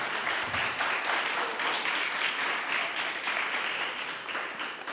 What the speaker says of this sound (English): Let's give it another round of applause, please.